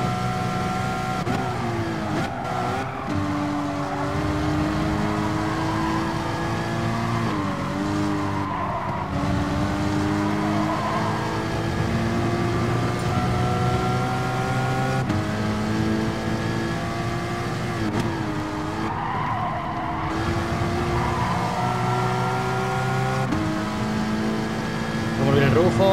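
Porsche race car in a racing video game, engine droning and rising and falling through gear changes, with tire squeal and skids in the corners, continuous and close.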